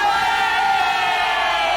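An audience at a concert applauds and cheers: a dense, steady wash of clapping and shouting voices that holds evenly loud for the whole moment, with no one speaking over it.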